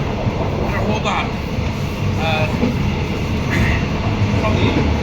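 A train rolls from Thailand toward Malaysia with a steady loud rumble and rattle inside the carriage, faint voices audible over the constant noise.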